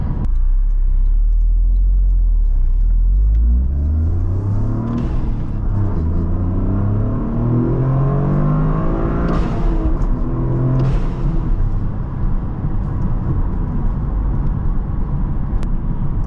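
A Toyota GR Corolla accelerates hard through repeated gear changes, its engine note climbing and dropping in rising sweeps over constant loud road and wind roar from inside the cabin.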